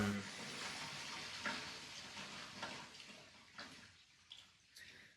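Sewage rushes and gurgles continuously through a sewer pipe, a faint hollow flow that tapers off with a few trickles and splashes near the end.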